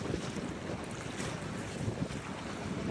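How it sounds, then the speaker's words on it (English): Strong 25 to 30 knot wind buffets a 38-foot catamaran on a stormy sea, a loud, continuous roar of gusts and microphone wind noise with the wash of waves underneath. "Winds are about 25 knots, even up to 30."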